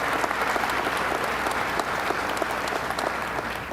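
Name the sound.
audience applause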